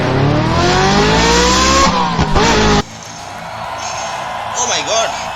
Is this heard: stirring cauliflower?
no